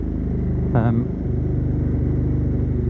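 A 2018 KTM Super Duke 1290 R with its catalytic converter removed and a Remus aftermarket exhaust idles with a deep, steady, throbbing rumble, plus a brief blip of revs near the start, recorded up close.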